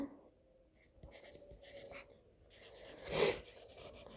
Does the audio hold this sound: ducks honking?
no